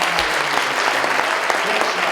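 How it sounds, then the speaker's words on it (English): Audience applause at a pageant crowning, a steady wash of clapping from a large crowd throughout, with a few sharper individual claps standing out. "So give them a real big round of applause."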